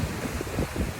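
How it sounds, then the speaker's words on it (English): Rough North Sea-style surf breaks steadily off the Norfolk coast under an offshore cyclone, giving a dense, continuous rumbling wash with no voices. "the waves are proper North Sea, off the Norfolk coast kind of waves"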